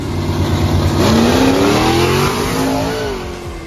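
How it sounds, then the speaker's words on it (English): Drag racing cars launching at George Ray's Dragstrip, among them a Mustang smoking its tires, loud engines roaring close and rising steadily in pitch as they accelerate, with no talking. "He smoked the tires and I was gone."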